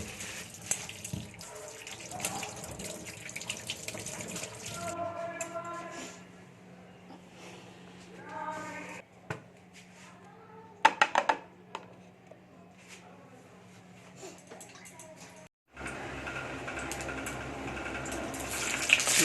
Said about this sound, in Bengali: চিকেনটা ধুয়ে নিই ভালো করে।